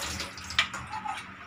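Sliced banana chips get washed in water, giving soft splashing and sloshing with a few small clicks, close and fairly quiet, with no talk.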